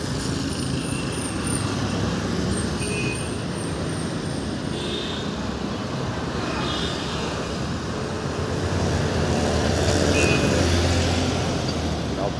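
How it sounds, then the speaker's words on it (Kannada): Dense road traffic with vehicle horns sounding again and again over a constant roar of engines, some blasts overlapping, heard close and loud without any speech. "ಸೌಂಡು ಒಂದೇ ಸಮ ಹಾರನ್ ಬರ್ತಾನೆ ಇದೆ"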